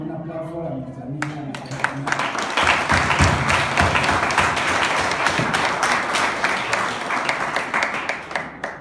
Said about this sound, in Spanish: Les felicidades y les hacemos con un aplauso a nuestra amiga.